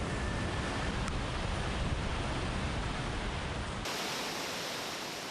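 A large waterfall roars at the entrance of Masuleh village in Iran, a loud, dense, continuous rush of falling water with no voices.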